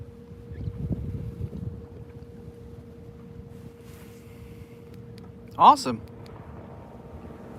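Boat gliding along on a trolling motor during winter catfishing in South Carolina, a faint steady low hum with wind and water noise, briefly covered by a short spoken word.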